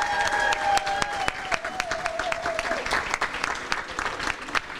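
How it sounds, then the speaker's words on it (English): Sustained applause from a large crowd for dignitaries on stage at an apartment development event, steady and enthusiastic, with a faint tonal sound running underneath for the first few seconds. "Another round of applause for all of our dignitaries on stage."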